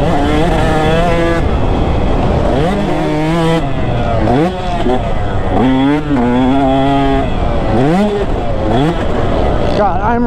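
Two-stroke motorcycle engine while riding, a loud close raspy buzz repeatedly revving up and dropping through gear changes, with someone talking throughout.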